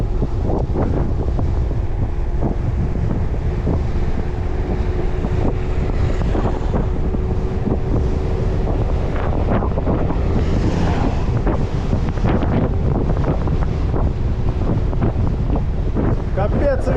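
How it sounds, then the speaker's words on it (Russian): Strong, cold autumn wind on the Crimean coast near Koktebel buffets the microphone in a constant loud roar, with surf faintly beneath it and no talking. "Холоднющий ветер. Просто дубак."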